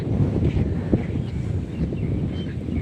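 Strong wind gusting outdoors on a walk into a forest, buffeting the microphone with a constant low, rumbling roar and faint rustling, loud and unbroken with no voices.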